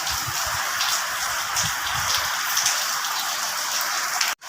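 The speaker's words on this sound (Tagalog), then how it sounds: "Sobrang lakas ng ulan." Heavy rain pours down on a construction site, a dense, loud, unbroken hiss of drops with faint patters and splashes close by, no talking, cutting off abruptly at the end.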